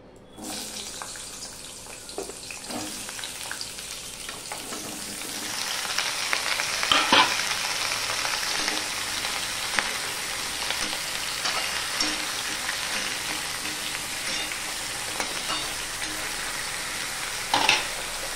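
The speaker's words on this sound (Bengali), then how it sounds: "আমি মিষ্টি কুমড়ো, পটল, আলু, বেগুন এগুলো কেটে নিয়েছি। তেলটা গরম হয়ে গেলে আমি এগুলো দিয়ে দিচ্ছি।" Pieces of pumpkin, pointed gourd, potato and eggplant drop into hot oil, setting off a steady broadband sizzle of frying vegetables that swells after a few seconds and holds, with occasional stirring clatter.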